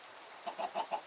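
Chickens in a coop in Minecraft give four short, soft clucks in a quick regular rhythm after a brief quiet moment, with no talking.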